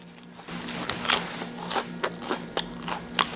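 Crisp crunchy bites into fermented okara whole wheat bread, several sharp crackling crunches spaced unevenly, close up and fairly quiet.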